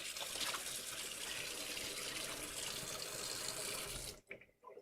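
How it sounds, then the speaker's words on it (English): Tap water runs steadily into a kitchen sink as something is rinsed, a loud continuous splashing rush that stops abruptly near the end, leaving a few faint drips. "Let's rinse this."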